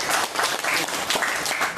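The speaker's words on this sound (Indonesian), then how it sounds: "kita beri tepuk tangan juara dunia" Audience applause for a world champion at a product presentation, a dense, steady wash of many hands clapping throughout, loud and close with no talk over it.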